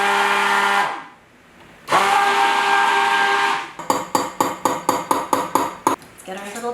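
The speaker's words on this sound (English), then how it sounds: "I'm still going to take the immersion blender to this to mix it up and emulsify it really well" An immersion blender whirs loudly in two steady bursts while emulsifying homemade tallow lotion, then gives way to a rapid series of short, evenly spaced pulses, close and prominent.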